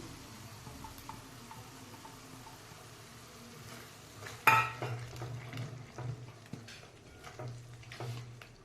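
Tomato puree goes into a pan of frying pigeon pea curry and gets stirred, a clear splash and scrape mid-way, followed by spoon clatter and gentle sizzling.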